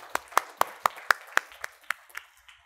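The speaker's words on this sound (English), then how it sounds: "Let's give them a round of applause." A small audience in a Stanford AI lecture hall claps for the Pac-Man competition winners, about ten distinct, sparse hand claps in a loose rhythm, fairly quiet and fading out.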